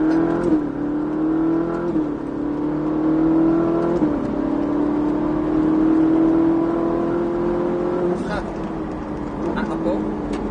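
A Ferrari 458 Italia accelerates hard on the Croix-en-Ternois race circuit, its engine climbing in pitch and dropping at each gear change. The loud, close engine note continues throughout with an instructor's voice over it.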